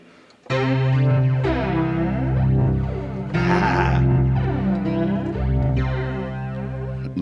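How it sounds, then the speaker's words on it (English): Sound run through an Alto mixing board's built-in reverb and flange effects, giving loud sustained tones with sweeping, swirling flange and a washy reverb tail, starting abruptly and shifting in pitch over several seconds with no talking. "That's reverb and flange."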